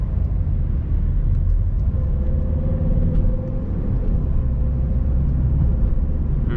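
A turbocharged 1.3-litre car engine drones loudly and continuously from inside the cabin as it accelerates, a steady low rumble with a faint rising tone in the middle.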